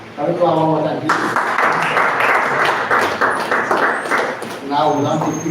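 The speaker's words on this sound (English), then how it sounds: "Can we clap one more time, please?" A seminar audience claps together for a few seconds in a steady wash of applause, with a voice talking just before and after.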